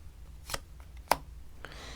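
Tarot cards being shuffled and drawn during a reading, heard as a few brief crisp card snaps and riffles spaced apart, with a sharp louder flick near the middle over a quiet room.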